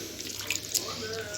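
Tap water running into a bowl for Egyptian farmhouse bread dough, a brief steady faucet stream close by, continuous with a light splash at the end.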